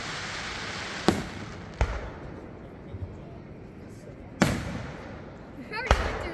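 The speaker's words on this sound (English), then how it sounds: "We already went through like a freaking 100 fireworks." Backyard fireworks in Virginia go off in four loud, sharp blasts spaced a second or more apart, each cutting through a steady hiss of outdoor background noise.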